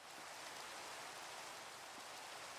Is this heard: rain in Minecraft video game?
yes